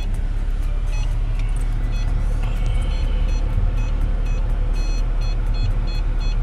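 A Mercedes-AMG C43 backs up with a steady electronic reversing beep repeating over a loud, continuous road-vehicle hum and low engine drone.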